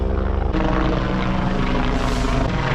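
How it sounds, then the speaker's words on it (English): A military helicopter passes overhead near a weir and railway in Australia, its loud, steady rotor thump and engine roar filling the scene continuously with no talk. "Oh, military chopper coming over."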